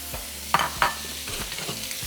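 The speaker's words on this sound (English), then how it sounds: "meanwhile, we can cook our bacon." Bacon sizzles in a frying pan, a close, steady crackling hiss broken by a couple of sharp scraping stirs, with no talking.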